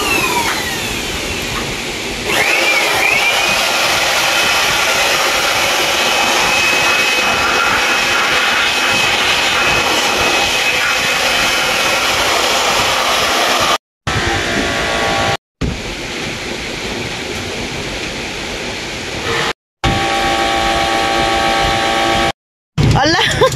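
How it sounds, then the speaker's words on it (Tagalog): A blower runs steadily and loud for the whole stretch, used while cleaning an air conditioning unit, with a broad whooshing roar and a few brief dropouts near the end. "Blower lang."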